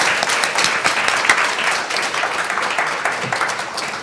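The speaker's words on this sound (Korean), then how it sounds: "다시 한번 큰 박수로 감사 인사를 드리면 감사합니다" An audience at a lecture marking a research institute's tenth anniversary breaks into sustained applause, a dense, loud wash of clapping that holds steady for several seconds.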